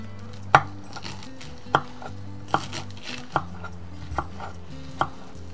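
A knife finely chopping fresh greens such as dill and parsley for green borscht cooked outdoors over a campfire: six crisp, evenly spaced chops against a board over a low background hum, with no talking.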